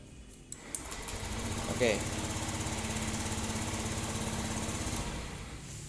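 A Honda Beat ESP scooter with an ignition fault is started with the electric starter and settles into a steady, rapid idle putter that runs for several seconds, close by, with a brief spoken word near the start.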